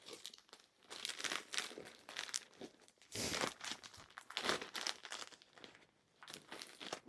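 Folded women's vintage clothes are pushed into a bag, giving close, continuous crinkling and rustling of plastic with brief louder crunches and short pauses, and no voices.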